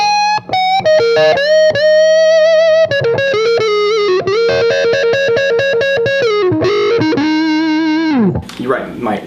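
Electric guitar on the neck pickup with the tone knob rolled fully down, a dark, muffled overdriven lead playing sustained notes and bends, loud and close, ending in a brief noisy scrape.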